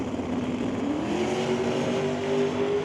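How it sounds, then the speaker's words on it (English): Drag race cars accelerate hard down the strip, a loud, sustained engine roar with a steadily rising pitch, heard alone with no talk. "Wow, good drag race here."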